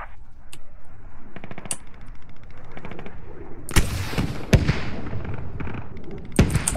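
Gunfire crackles in the Squad tactical shooter, sharp scattered shots and short bursts, some distant and faint, others close and loud, over a low background rumble.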